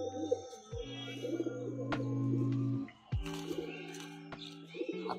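A male racer pigeon coos while being held in the hand, giving several deep, throaty coos in a row, close and clear, with faint rustling and handling clicks between them.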